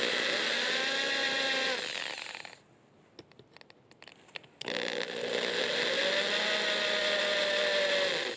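Drilling holes into the back of an aluminium decorative inlay for an Opinel knife with a power drill: loud, steady high-pitched whine that cuts out for about two seconds, with a few small clicks, then resumes at full volume.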